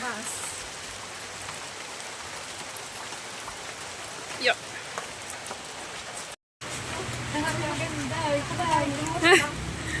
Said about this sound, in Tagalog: Nabutan na po kami ng ulan.